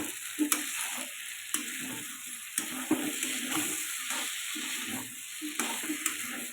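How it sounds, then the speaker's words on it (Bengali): Pumpkin and paneer curry fries in a pan, a continuous sizzle punctuated by a spatula's periodic clacks and scrapes roughly once a second, close by and without speech. "এবার ভালো করে নেড়ে কষিয়ে নিয়ে তারপরে ঝোল দেবো।"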